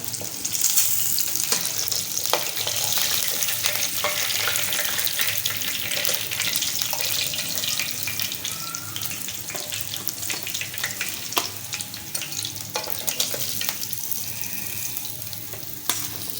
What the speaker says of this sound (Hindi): बकिया पीस जो रह गए थे वो भी अम्मी जो है इसकी कोटिंग करके इसको फ्राई कर रही हैं।